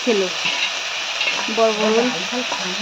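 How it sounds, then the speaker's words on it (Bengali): Red amaranth greens fry with a chili tempering in a home kitchen, a steady crackling sizzle throughout, with a voice faintly heard in the background. "মা লাল শাকের মধ্যে দিয়ে দিল লঙ্কার ফোড়ন আর লাল শাকটা একটু ভাজা করে নিচ্ছে"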